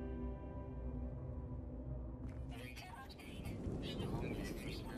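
Thunderstorm in the video game No Man's Sky: a low steady rumble gives way to a rising, crackling rush of storm noise that fills the second half.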